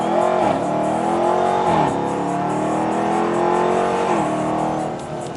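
A 2015 Dodge Charger R/T revs loud and steady as it launches hard, engine pitch climbing and dropping through gear changes with a sustained roar close to the microphone.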